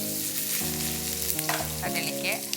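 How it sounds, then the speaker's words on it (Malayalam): Chopped ginger hits hot oil where mustard seeds have already popped, giving a steady bright sizzle with small crackles throughout, heard under background music with sustained tones. "കടുക് പൊട്ടിയിട്ട് ഇനി നമ്മൾ ചെറുതായി അരിഞ്ഞ ഇഞ്ചി ഇടാം."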